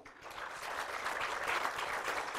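An audience at a drawing and painting award ceremony gives a steady, dense round of applause, sustained and moderately loud throughout.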